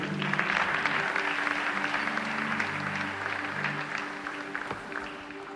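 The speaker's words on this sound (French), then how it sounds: "Acclamons Jésus." A church congregation at a French-language Bible study applauds steadily for several seconds, a dense wash of clapping with a sustained voice or tone running underneath.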